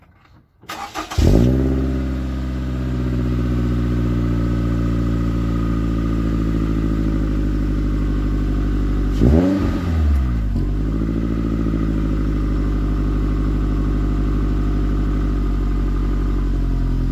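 A 2015 Scion tC fitted with a Borla S-Type exhaust starts up and settles into a steady, throaty idle, with one short throttle blip midway. The engine is close and loud, and no one talks.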